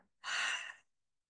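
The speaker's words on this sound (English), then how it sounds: "So you cover one side of your nose, inhale, exhale with a sound." One forceful breath pushed out through a single nostril during a breathing exercise, a short, airy, hissing exhale that rises quickly, holds for about half a second, then fades into silence.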